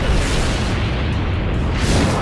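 A missile explosion rendered as a film sound effect: a loud, dense, continuous roar of rumbling blast that holds at full strength without letting up.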